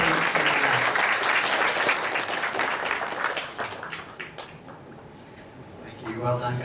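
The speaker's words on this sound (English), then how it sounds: "Let's give them a round of applause as we come off the stage to the left" Audience applause at a youth awards ceremony as performers leave the stage, loud sustained clapping that thins out and fades midway, with a voice speaking over the tail end.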